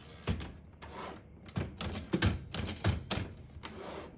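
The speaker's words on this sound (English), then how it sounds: "we're going to hit that tab and I'll show you from the back here. So it stops at each one of these." Carriage of a 1925 Underwood No.5 portable typewriter tabbing across to its stops, giving a run of sharp mechanical clacks and thunks spaced irregularly, close and fairly loud with no talk.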